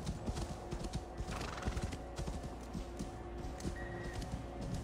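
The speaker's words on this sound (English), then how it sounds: "Spooky horse." A horse whinnies in Assassin's Creed Valhalla over rhythmic clip-clop hoofbeats, the trotting steady and close, with no voices.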